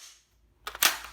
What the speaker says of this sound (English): Put the bolt forward,